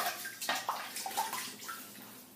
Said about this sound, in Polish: Płuczę twarz oczywiście.